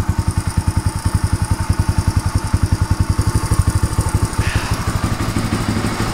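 A troubled motorcycle engine idles close by with a steady, rapid thumping pulse that runs the whole time, roughing slightly partway through, with no talking over it.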